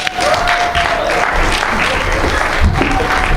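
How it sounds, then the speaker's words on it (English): Audience applause and cheering for performers Rayvon Owen and Ross Bridgeman at an ASU Club Cafe entertainment night, a loud, dense crowd clapping steadily for a few seconds with a faint tone running beneath. "Please give a round of applause for Rayvon Owen and Ross Bridgeman."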